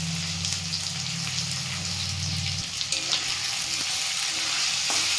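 Onions and capsicum fry in a pan with a steady, close sizzle throughout, a low hum fading partway and a few soft stirring clicks toward the end.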